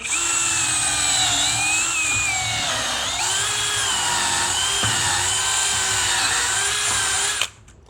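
A power drill whines loudly and steadily as it bores pocket holes in wooden skirt boards through a Kreg jig, then stops suddenly at the end.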